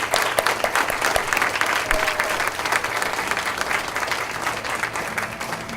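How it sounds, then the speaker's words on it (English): An audience at the 2015 Montgomery County BHDD awards luncheon applauds the Sergeant with dense, sustained clapping that stays loud and even throughout before easing slightly toward the end. "If we could give a hand to the Sergeant."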